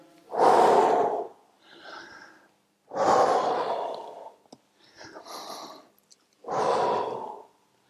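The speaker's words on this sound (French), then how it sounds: "J'inspire." Deep breathing during a home workout: three loud, drawn-out breaths, each followed by a softer, shorter breath, spaced a few seconds apart, close to the microphone with no talking.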